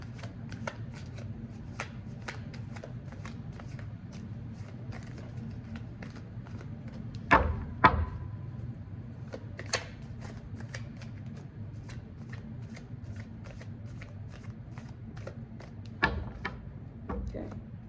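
Tarot cards being shuffled, a steady papery riffling and flicking that goes on for a long stretch, with a few sharper taps and a low hum beneath.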